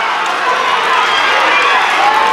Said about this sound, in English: The crowd are cheering